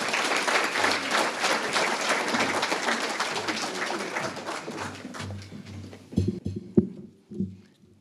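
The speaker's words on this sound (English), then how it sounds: "Please give Lieutenant Morrell a round of applause." A luncheon audience at a leadership awards event applauds for Lieutenant Morrell with dense, sustained clapping that fades out, followed by a few isolated claps and small noises.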